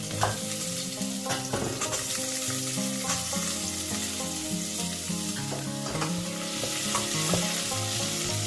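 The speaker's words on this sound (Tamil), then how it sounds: "இப்போ இந்த வெங்காயம் நல்லா வதங்கிச்சுன்னா" Onions sautéing in a pan give a steady close sizzle and crackle throughout, broken by repeated scraping stirs, with no voices.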